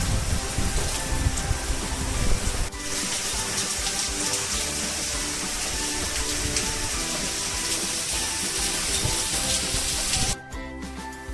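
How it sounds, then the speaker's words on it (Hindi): Heavy rain pours down outside in a dense, steady roar, loud and continuous with splashing hiss throughout before cutting briefly near the end. "बारिश बहुत ही ज़बरदस्त हो रही है"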